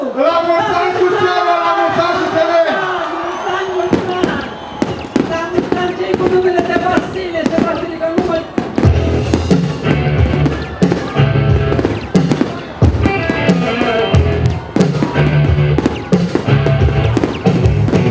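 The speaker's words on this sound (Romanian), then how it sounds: "A urmat un foc de artificii care a putut fi admirat" Fireworks display at a Suceava city anniversary celebration, a rapid series of loud bangs and crackling bursts following a brief crowd countdown, with cheering in the background.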